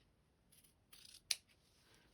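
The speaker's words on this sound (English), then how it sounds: "I'm just going to cut a square" Scissors snip through a square of purple fabric for a handmade bookmark, giving a few soft rustling cuts and then one sharp, close click of the blades, heard alone and quiet.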